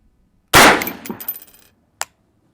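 A single sharp report from a .224 Valkyrie rifle firing factory ammunition, loud and close, with a ringing echo decaying over about a second and a faint metallic clink shortly after.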